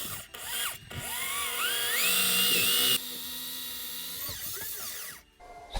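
A drill bit bores a 4 3/8 hole through a tiny off-grid cabin wall for a water heater vent, a close, loud, high whine that rises in pitch and runs steadily for several seconds before stopping.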